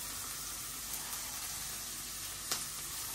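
Onion fries in hot oil in a pan, giving a steady, close, continuous sizzle with a faint tap or stir near the end.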